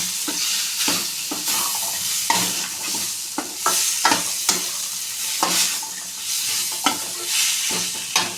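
Ridge gourd fry sizzling in a home kitchen pan, a constant close frying hiss punctuated by rhythmic scraping strokes of a spoon stirring the vegetables, with no speech.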